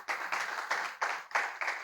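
A small panel-session audience claps in a quiet, rhythmic pattern, soft bursts of hand claps repeating roughly every quarter second, fairly faint and without talk.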